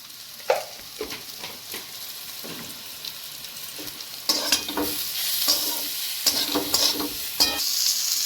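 Chili and cumin powder sizzle in a pan while being stirred, with scraping strokes and bursts of frying that grow louder toward the end, close and without talk.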